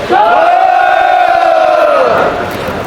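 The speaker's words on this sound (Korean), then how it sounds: "큰 함성으로 맞아주십시오" Large crowd at a candlelight rally in Jecheon protesting rail privatization and election fraud lets out a loud sustained roar of cheering and shouting for about two seconds before it fades into scattered voices.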